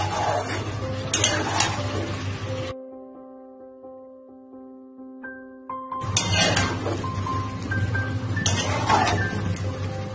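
Mutton with spices sautés over a medium flame, a dense sizzle with stirring scrapes and metallic clinks, broken by a few seconds of near-quiet in the middle.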